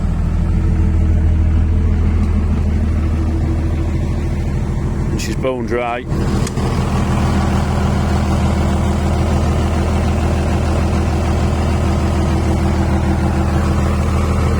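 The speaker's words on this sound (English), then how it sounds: "I don't think I've ever seen a smoother engine than these Daewoo 6 cylinders." Six-cylinder diesel engine of a Daewoo DH130-3 excavator idling smoothly, a steady low rumble running throughout with someone talking over it.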